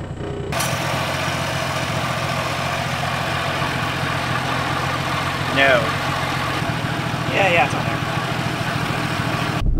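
A 1966 Rambler 770 Classic's engine runs steadily at idle throughout, a constant low mechanical drone with faint voices briefly audible over it.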